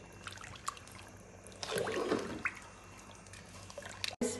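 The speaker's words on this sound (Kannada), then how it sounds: "ನೆಕ್ಸ್ಟ್ ನೀರು ಹಾಕ್ತಿದ್ದಾರೆ ಅಳತೆ ನೋಡ್ಕೊಂಡು ಹಾಕ್ಕೊಳ್ಳಿ" Water splashes and gurgles into a biryani pot in a short burst, with light clinks and handling noises before and after.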